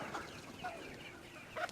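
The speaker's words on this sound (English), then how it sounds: "We feed it to the birds." Backyard chickens cluck and call softly while being fed leftover food scraps, with a few short, faint calls scattered over a low background.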